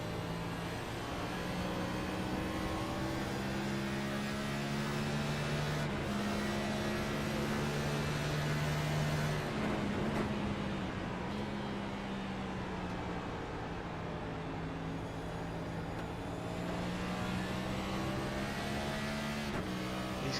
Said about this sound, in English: The Eagle's running it down to 4th gear.